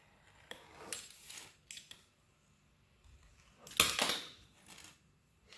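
Fondant sugar paste pleats on a cake being trimmed, a few quiet, brief snips and light metallic clicks spaced apart over near silence, no talking.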